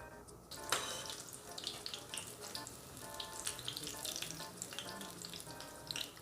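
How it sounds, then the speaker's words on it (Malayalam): Pooris deep-frying in hot oil give off a steady, close bubbling hiss with crackling, rushing like running water and staying even and continuous throughout. "അപ്പോൾ പൂരി ഇതിൽ തന്നെ ഞാൻ പൊരിച്ചെടുക്കണത്."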